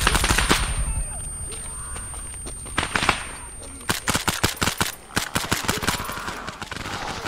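Bursts of automatic gunfire in Arma 3, with rapid rattling volleys and single sharp shots in a loud exchange, mixed with voices.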